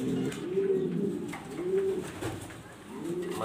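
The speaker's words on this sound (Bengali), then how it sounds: "মাদি কবুতরটা এখন একটু দেখাবো" A female pigeon coos close by in a soft, repeated low warble, three rounded rising-and-falling calls in an even rhythm with no talk over them.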